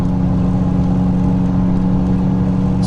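Truck with 174,000 miles pulling a 6,000-pound RV trailer uphill: a loud, steady mid-pitched engine drone with a constant hum throughout, close and unbroken.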